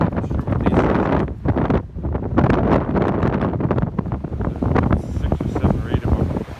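Strong outdoor wind buffets the microphone in loud, rumbling gusts that swell and dip for several seconds near a World War II Navy destroyer relic site; no one speaks.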